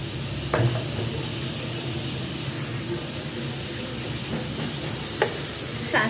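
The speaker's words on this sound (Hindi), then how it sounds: "इसी में मैं डालूंगी मशरूम जो हमने काट के रखे थे" Chopped mushrooms sizzling in melted butter, a steady close hiss broken by a few clicks of stirring and utensil taps, with no speech.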